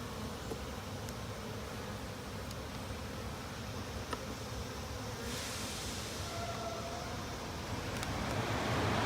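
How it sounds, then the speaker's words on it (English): Honeybees absconding from a nearly empty hive during a frame inspection, a steady dense buzz of many insects close around, with a faint breezy wash and the hum swelling slightly toward the end. "These bees are absconding."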